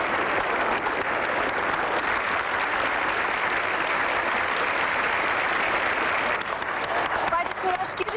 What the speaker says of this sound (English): let's keep the applause going for a special lady, because she has to take a bow